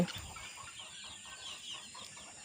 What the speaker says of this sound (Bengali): এই যে দেখেন আমার দেশি মুরগির বাচ্চাগুলো